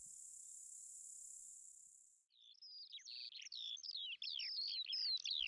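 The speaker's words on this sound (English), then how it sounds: "This long-legged, slender, long-billed bird is a black-tailed godwit." Black-tailed godwit calling in a meadow beside the Vata River: a steady high insect-like buzz first, then a run of sharp, repeated chirping calls, fairly close and clear with no talk.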